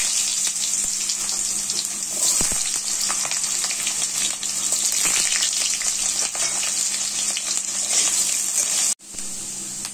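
Diced medium potato frying in hot oil with dried red chilli and nigella seeds makes a steady, loud, close sizzle that runs unbroken, cut by a brief drop near the end. No voices.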